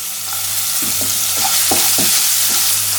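Ginger and green chillies sauté in a pan while making a cheese masala dosa filling: a steady close sizzle of frying with repeated scraping stirs of a spatula, no voices.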